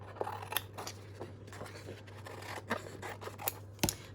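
Scissors snip through paper while cutting out a Polaroid pocket shape, a run of irregular crisp snips and light scraping close by, with no talk over a faint steady hum.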